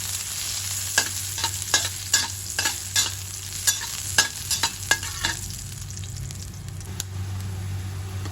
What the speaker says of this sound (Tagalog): gigisa ko lang ng konting oil yung aking pangat